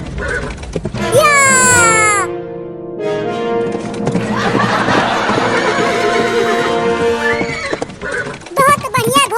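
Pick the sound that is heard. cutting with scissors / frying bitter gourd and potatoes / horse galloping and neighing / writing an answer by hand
horse galloping and neighing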